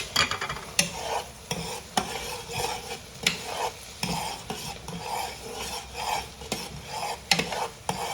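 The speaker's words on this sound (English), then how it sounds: "So I gotta soften up onions and celery" Onions and celery soften in a pan with a gentle, steady sizzle, while a utensil stirs and scrapes against the pan in irregular strokes at close range.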